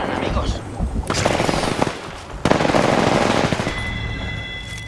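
Rapid automatic gunfire in the Apex Legends battle royale game, dense loud bursts filling most of the moment with a brief pause, close and intense, with a player's voice talking in the mix.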